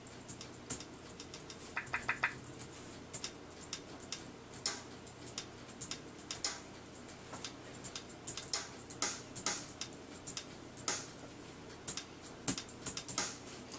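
A computer keyboard is tapped as a musical input for MIDI drums, giving a steady run of light, quick key clicks in an irregular rhythm. The clicks are close and faint, with no talk, over a soft room hiss.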